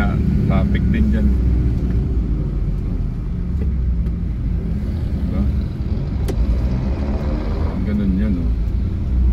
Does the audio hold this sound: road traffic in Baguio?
yes